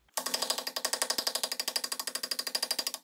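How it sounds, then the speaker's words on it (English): Impact driver with a Phillips bit hammering at rusty brake rotor screws on a 2002–2008 Honda Fit: a fast, steady stream of sharp mechanical impacts lasting about three seconds, loud and close with no talking. "This is an impact driver, and it has a Phillips fitting, perfect for these rotor screws."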